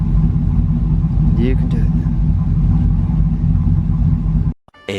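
A Nissan S13 engine idles with a steady low rumble after its choppy low idle was fixed, someone speaking briefly over it before the engine sound cuts off near the end.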